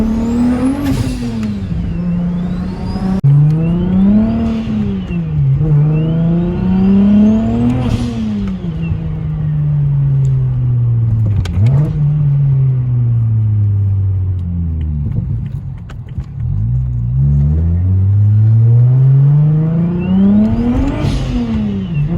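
A BMW N54 engine with an aftermarket exhaust revs repeatedly, heard from inside the car with the windows closed: loud droning rises and falls through several throttle blips and pulls, close and continuous with a deep rumble.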